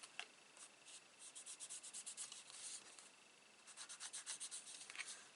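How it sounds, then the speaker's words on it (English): A fingertip rubs repeatedly over the edges of paper for a vintage steampunk half album, making soft, rhythmic scratchy strokes in quick bursts, close and fairly quiet, with a short pause midway. "just use the tip of my finger to grunge up that paper."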